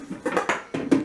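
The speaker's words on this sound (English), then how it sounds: "You gonna do the dishes, Lou?" Dishes and cutlery clatter in a kitchen sink in a few distinct bursts, close and fairly loud, with brief gaps between the clinks.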